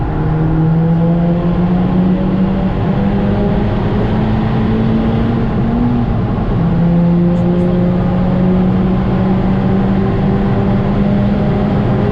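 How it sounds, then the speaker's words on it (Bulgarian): Volkswagen Golf V GTI accelerating hard from 100 km/h on a highway, a loud continuous engine drone rising slowly in pitch with a brief dip at a gear change, heard from inside the car. "ще пробваме ускорение от 100"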